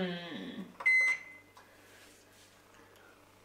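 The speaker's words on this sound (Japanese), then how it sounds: "え、ドイツの電子レンジ。" A German microwave oven gives a steady electronic beep while being set, followed by faint button clicks and quiet room noise with no talking.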